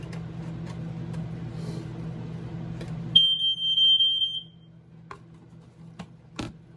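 A single high, piercing beep from a BRK 1200 smoke alarm rings out for about a second after a steady low hum, followed by a few faint clicks.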